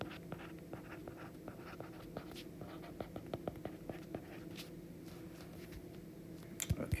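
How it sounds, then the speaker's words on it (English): A pen or marker writes notes for a genetics review, producing steady, faint scratchy strokes and taps in a continuous rhythm close by. "Let's write it down here."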